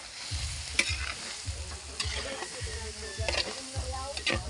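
Pork skin frying and being stirred in a pan to render its fat at a countryside wedding-eve cookout in Batangas, steady close sizzle with rhythmic scraping stirs, a voice faintly present beneath.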